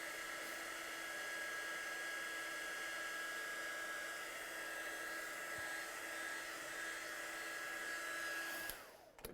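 A hair dryer blows on stamped watercolour artwork to dry it, a steady, close whooshing whine with a high tonal hum that holds evenly before switching off near the end.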